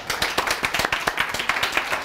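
A crowd claps steadily and briskly, many hands together in a loud, sustained round of applause.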